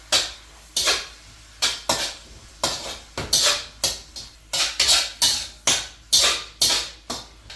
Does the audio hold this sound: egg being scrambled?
yes